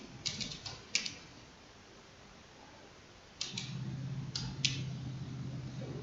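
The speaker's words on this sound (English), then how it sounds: "I'm going to type in some codes." Keys clack on a point-of-sale terminal keyboard while codes are entered, in two short bursts of quick taps separated by a quiet pause, with a faint hum beneath the second burst and no voices.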